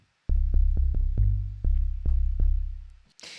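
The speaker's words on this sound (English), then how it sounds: "That way we have a sound with multiple different oscillators to give it a little bit of a thicker tone." Deep synthesized 808 bass notes built from multiple stacked oscillators for a thicker tone play in a rhythmic trap pattern, each boomy sustained hit decaying, ending with a brief burst of noise.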